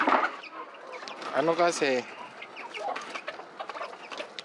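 Chickens cluck and squawk around a rural Philippine yard while a person talks over them, with a burst of rapid, rising fowl calls near the middle among steady background chatter.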